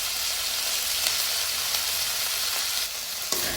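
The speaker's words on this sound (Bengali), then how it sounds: "এগুলো একটু নেড়ে চেড়ে ভাজা ভাজা করে নিয়ে এর মধ্যে দিয়ে দিব সজনে পাতা" Drumstick leaves frying with spices in a hot pan give a dense, continuous close sizzle and hiss, with light stirring scrapes now and then.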